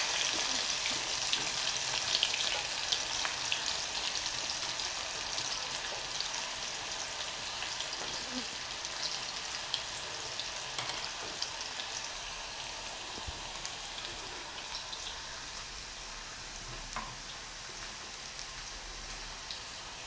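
Steady crackling and sizzling of plantain slices frying in hot oil, a dense hiss with occasional sharper pops, continuous and fairly close.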